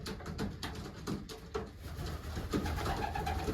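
Pigeons or doves coo repeatedly as birds come in at a pigeon race drop, with soft rhythmic calls overlapping against a steady outdoor background.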